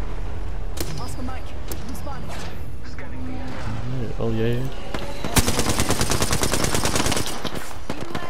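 Rapid, sustained automatic gunfire in Apex Legends, a loud rattling burst of closely spaced shots in the latter half, preceded by game sound effects and voice lines over busy background noise.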